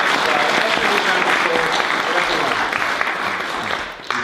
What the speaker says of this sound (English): we forgot to give everyone a round of applause